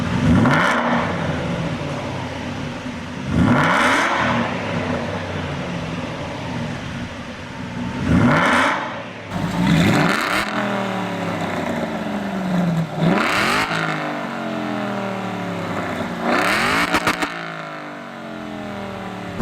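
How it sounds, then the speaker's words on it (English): A loud, raspy straight-piped Aston Martin V8 Vantage exhaust revs repeatedly in sharp bursts, each blip rising and falling, heard close up with a rumbling idle between revs. "Straight piping my Aston Martin V8 Vantage"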